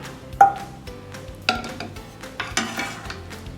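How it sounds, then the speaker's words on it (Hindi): Ghee being added a little at a time to a pan for Rajasthani sattu sweet for Teej: a few sharp metallic clinks of a spoon against the pan at separate moments over a faint sizzle, close by. "अब मैं इसमें घी डाल देती हूँ।"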